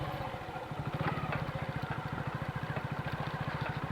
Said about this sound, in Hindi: देखो भाई दूसरे गियर में बिल्कुल प्यार से चल रही है बाइक।